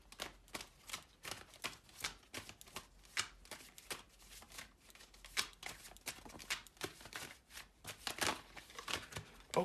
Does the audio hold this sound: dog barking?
no